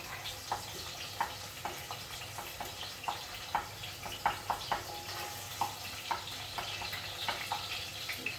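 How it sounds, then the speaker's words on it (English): Garlic fries in a hot pan alongside tinned pilchards, a faint continuous sizzle broken by regular soft clicks and taps of stirring, quiet and close. "And my garlic, I'm just gonna add that in there. Mix it up."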